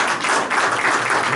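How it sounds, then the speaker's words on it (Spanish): Steady, dense applause from a church congregation during a service, loud and continuous throughout. "Den un aplauso al Señor"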